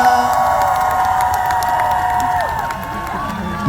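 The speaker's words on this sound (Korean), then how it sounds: "이 축제를 준비해주신 많은 분들께 큰 박수 한번 보내주세요" A large outdoor crowd at a whale festival concert in Ulsan cheers and applauds, a dense sustained roar of voices and clapping with whoops and high shouts over it, loud and continuous throughout.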